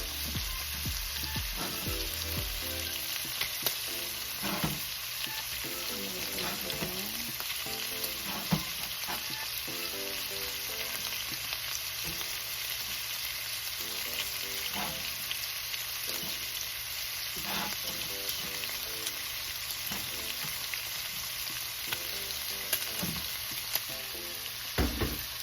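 Liver sautéing in a pan for Filipino pork menudo, a continuous loud sizzle and crackle with repeated scrapes and knocks of a spatula stirring, steady throughout.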